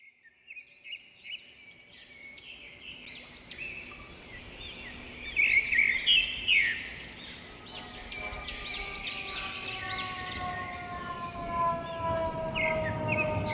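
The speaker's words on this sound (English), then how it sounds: "Sparrows and Sirens." Sparrows chirp in busy, overlapping bursts close by, with a wailing siren rising and falling in the background and growing more prominent toward the end.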